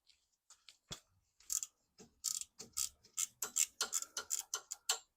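An 8mm ratcheting wrench removes the starter bolt on a 1999 Mercedes-Benz C43 AMG with the 4.3L V8, giving faint, close, quick clicks in uneven bursts that speed into a steady ticking run.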